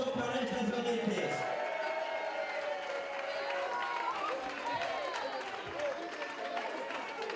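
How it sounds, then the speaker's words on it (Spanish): Crowd applause at a village fiesta opening in Peraltilla for a women's group from two local peñas, dense broadband clapping mixed with crowd chatter and cheering, steady and moderately loud throughout with a voice heard at the start. "Un aplauso para estas valientes."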